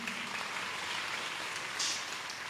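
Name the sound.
audience clapping at a satsang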